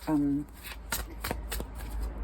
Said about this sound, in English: I'll try and loosen them up as I shuffle for you.